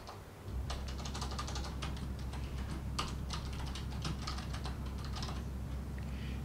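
Rapid, uneven key clicks from a USB keyboard connected to an iPad Pro, close and continuous after a brief quiet start, over a steady low electrical hum.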